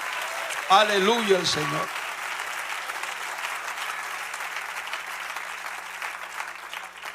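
A church congregation claps steadily in praise during a sermon, a dense continuous patter, after a voice calls out briefly at the start.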